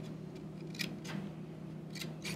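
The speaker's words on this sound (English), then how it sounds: "Okay, Luke, we're going to be cutting with the scissors now." Scissors snip through paper in a quiet room during a child's motor-skills assessment, with several short crisp cuts spaced unevenly over a faint steady background hum.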